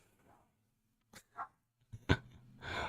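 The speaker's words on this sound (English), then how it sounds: "Can y'all hear him barking back there? You can hear the bark." A small dog barks a few times in the background, faint and somewhat distant, with short separate yips building into a louder stretch at the end.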